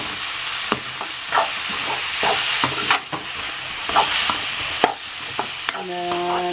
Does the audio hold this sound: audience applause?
no